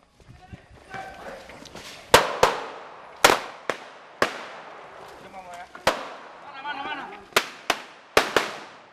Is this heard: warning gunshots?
yes